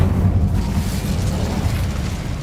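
Incendio fire spell cast in the video game Hogwarts Legacy, a steady low rumbling whoosh of flame that stays loud and dense for the whole stretch, with no talk over it.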